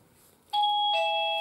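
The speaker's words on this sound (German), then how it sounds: "Es klingelt, Momentchen." A household doorbell rings indoors, two clear electronic chime tones, the first striking sharply and the second following a moment later, loud and ringing on against quiet.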